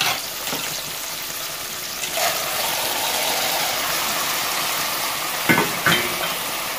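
White beans and scrap tuna sautéing in a cooking pot: a steady, even sizzle throughout with a few brief scraping stirs.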